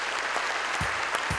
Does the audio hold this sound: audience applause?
yes